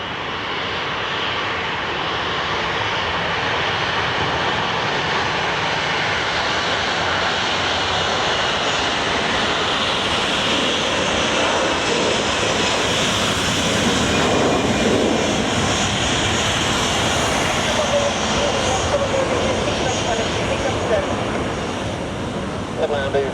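An airliner lands on runway 23 at Geneva Airport, its engines producing a sustained, broad roar that swells slightly toward the middle and stays loud throughout, with brief radio talk.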